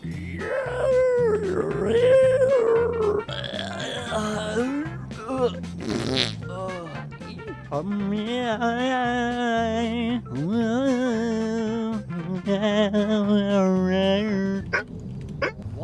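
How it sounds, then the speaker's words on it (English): A dog howls in the video game GTA 5 RP, drawn-out wavering cries that rise and fall and repeat over several seconds, fairly loud, with a few other sounds mixed in. "Wait, where is that dog coming from? Is there a dog here?"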